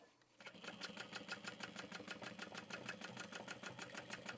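Sewing machine back stitching a tote bag, running in a fast, steady stitch rhythm that starts abruptly and continues evenly throughout, close and fairly loud with no talk over it.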